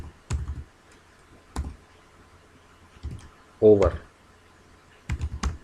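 Python code is typed on a computer keyboard in short clusters of crisp, close key clicks separated by quiet pauses, with a brief spoken word in between.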